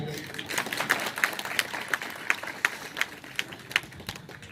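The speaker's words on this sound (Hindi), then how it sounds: "जो तालियां आपने बचा के रखी थी वो मुझे चाहिए" Scattered hand claps from an audience at a student felicitation ceremony, sparse and uneven rather than a full ovation, with a voice talking over them throughout.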